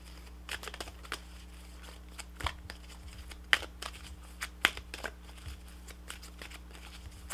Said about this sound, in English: Also pulling you a Power of Love Oracle card.